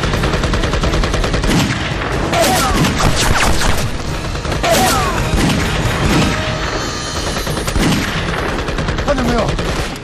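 Heavy machine gun fire in a Chinese war drama about battle with Japanese troops: loud, continuous rapid bursts with cracks and crashing impacts throughout, dense and close.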